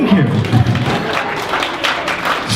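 An audience applauds, a short burst of steady clapping from a crowd, fairly loud throughout.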